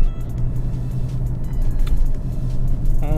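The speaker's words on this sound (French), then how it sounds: "Donc là j'ai laissé un peu la voiture chauffer." A diesel car engine idles steadily up close while warming up, a continuous low rumble with a slight rise in pitch near the end; the car is from the Alfa Romeo, Fiat, Lancia or Jeep range.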